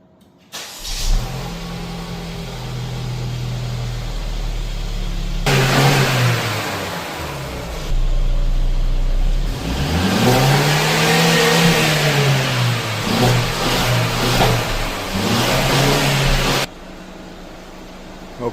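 A Mercedes-Benz C300 two-door coupe cranks and starts, settles into idle, then revs repeatedly in swelling rises and falls before dropping back, loud and close with no talking.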